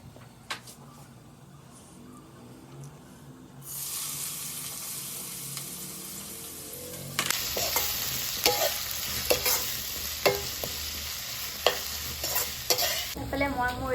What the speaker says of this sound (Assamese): এতিয়া পিঁয়াজখিনি ফ্ৰাই কৰি লওঁ।